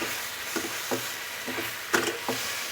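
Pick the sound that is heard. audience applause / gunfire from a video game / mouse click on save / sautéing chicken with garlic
sautéing chicken with garlic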